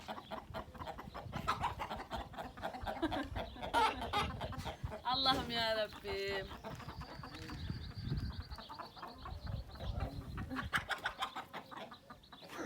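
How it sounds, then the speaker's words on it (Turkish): A rooster clucks and calls in short rhythmic bursts in the middle of the clip, with people talking nearby and outdoor background noise. "Horoza bak hele ne diyor kendine."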